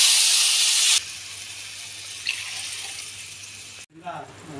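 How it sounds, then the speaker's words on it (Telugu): Water is poured into a cooking pot for khichdi for about a second with a loud rushing splash, followed by quieter kitchen sounds. "బియ్యం ఎన్ని తీసుకున్నామో దానికి తగ్గట్టు వాటర్ పోసుకోవాలి"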